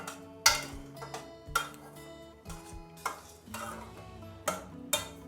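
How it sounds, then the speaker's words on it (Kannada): Semolina (rava) roasting in a pan on low flame is stirred with a spoon, giving sharp scraping clacks against the pan at an irregular pace of about one per second over a faint sizzle, no voices. "ರವೆ ಹಾಕ್ಕೊಂಡು ಈಗ ಲೋ ಫ್ಲೇಮಲ್ಲಿ ಇಟ್ಕೊಂಡು ಚೆನ್ನಾಗಿ ಹುರ್ಕೋಬೇಕು ಇದನ್ನು"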